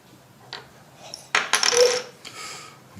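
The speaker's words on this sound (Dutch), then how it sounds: "Oké, maar je eerst gooien met de dobbelsteen." Dice tumble and clatter across a board during a board game, a few light taps followed by a louder rattling burst that settles into smaller knocks, close and without voices.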